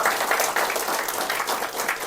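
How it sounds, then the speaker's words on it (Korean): A church congregation claps in thanks, a dense and fairly close patter of many hands at a steady level throughout the short stretch. "감사의 박수 드리겠습니다."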